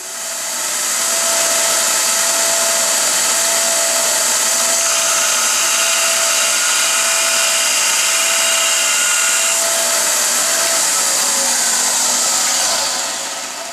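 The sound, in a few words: bench grinder grinding a steel lathe threading tool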